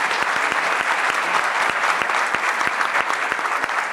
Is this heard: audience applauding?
yes